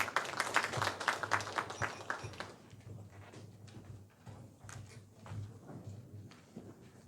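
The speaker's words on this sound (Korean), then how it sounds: "강영호 위원님을 큰 박수로 맞이해주시기 바랍니다" Audience at a Hwaseong citizens' regional meeting clapping to welcome the meeting chair, a short burst of claps that fades quickly into quiet room noise.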